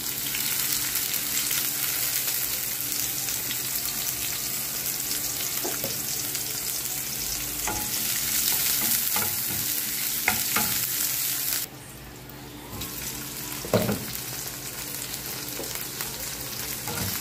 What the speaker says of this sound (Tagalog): Gisa natin ang onion at garlic